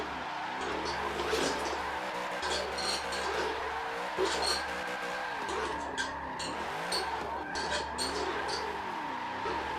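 Engine drone and tire squeal from a car drifting in a racing video game, steered on a Thrustmaster TMX Pro wheel, with a steady motor tone and wavering screeches running continuously at moderate level.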